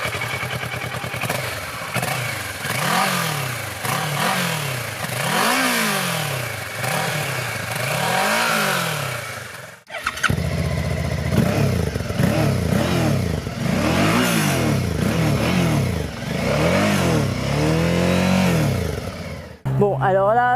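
A Kawasaki Versys 650 motorcycle's 650 engine revs repeatedly in rising and falling sweeps, close and loud, followed by a short break and a stronger run of acceleration, while someone talks over parts of it.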